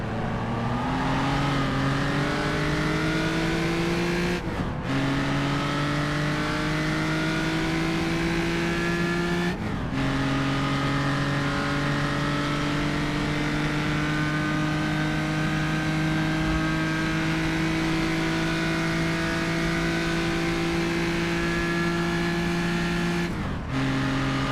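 A 3-liter Aston Martin historic race car at Le Grand road racing: a steady, loud in-car engine drone climbing in pitch through each gear, with brief sharp dips at three upshifts.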